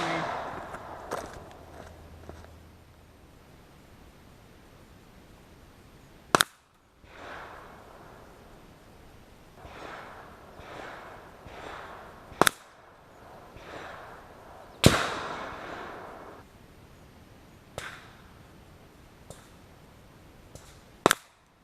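An AirForce .22 Condor air rifle firing cast round-nose slugs at a 100-yard range, each shot a sharp, loud crack spaced several seconds apart, with quiet handling noise and faint outdoor ambience between shots.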